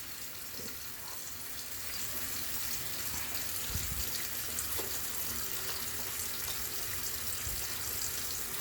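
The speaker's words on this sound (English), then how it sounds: "And I get a good, nice lather. And I'm going to scrub that for about 20" Handwashing at a sink: hands lathered with soap and scrubbed for about twenty seconds, a steady wet rubbing and hissing with running water underneath, continuous and close, no talking.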